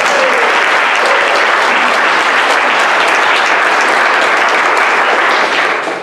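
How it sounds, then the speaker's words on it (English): A loud, steady round of applause from an audience at a scholars induction ceremony, dense continuous clapping throughout that tapers slightly at the end. "So let's give them a round of applause."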